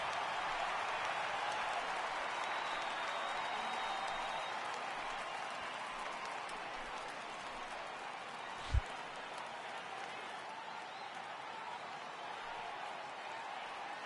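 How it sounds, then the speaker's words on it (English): A baseball crowd in the MLB The Show video game keeps up a broad, steady cheering roar, faint and distant, with a brief thump partway through. "Crowd gets up for the 3-2."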